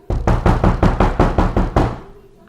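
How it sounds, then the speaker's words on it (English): Knocking at a door: about nine loud, close, evenly spaced raps in quick succession, then the sound stops and a short tail of room echo fades out. "someone at the door."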